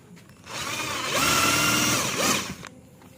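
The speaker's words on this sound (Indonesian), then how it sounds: "kita bor dengan ukuran 10 mili di tengahnya" A power drill with a 10 mm bit whirs up and bores a centre hole for about two seconds, pitch shifting as it bites, then winds down and stops.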